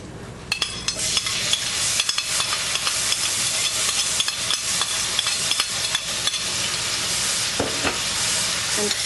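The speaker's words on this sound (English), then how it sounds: "now our oil has heated up, and so what we're going to do is we are going to add our garlic" Garlic sizzles in hot extra virgin olive oil, a loud continuous crackling hiss up close with frequent sharp clicks of a spoon stirring against the pan.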